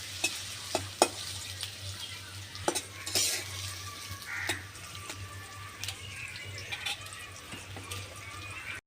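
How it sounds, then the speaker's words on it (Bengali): Onion and garlic frying lightly in a pan, a soft low sizzle punctuated by sharp clinks of a utensil against the cookware, fairly quiet and continuous throughout. "পেঁয়াজ আর রসুনটা একটু হালকা ভেজে নেব।"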